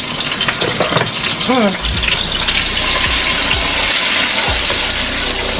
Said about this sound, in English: That's why you hear all the sizzling and the popping.